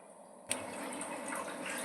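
Water comes to a boil around sweet potato pieces in a pot, a steady close bubbling hiss that starts abruptly and keeps on with small splashy pops.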